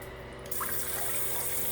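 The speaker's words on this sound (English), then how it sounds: "You have your sprayer here for your bidet." A bidet sprayer in a budget hotel bathroom in Boracay bursts on and sprays a steady, hissing jet of water that runs without pause at close range.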